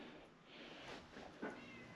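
A house cat gives a faint indoor meow, brief and soft against low room noise, with no talk over it.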